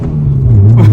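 Turbocharged 2017 Subaru WRX on the move, a steady loud low engine drone with a brief airy hiss rising near the end as the blow-off valve vents.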